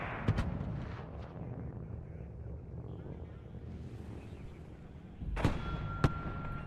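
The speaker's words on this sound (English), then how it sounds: "About to get mortars" Mortar artillery fire in the video game WARNO: two sharp distant-sounding booms near the start and two louder blasts near the end, with a rumbling battlefield bed and faint voices in between.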